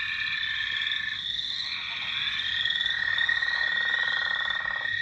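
Spring peepers and many other frogs call together in a dense chorus, layered high trills and creaking croaks running continuously at moderate distance with no voices.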